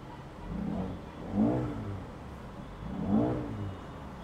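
A Mercedes-Benz AMG A35 engine revs up twice, each rise swelling and falling away, captured from inside the car through an open sunroof so it sounds moderately distant and somewhat muffled.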